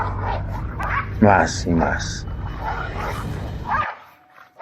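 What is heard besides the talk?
dogs barking sound effect in a story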